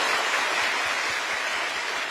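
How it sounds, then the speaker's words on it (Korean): Steady audience applause from a lecture hall of trainee civil servants, dense and continuous clapping filling the whole stretch without pause. "여러분 박수 부탁드립니다"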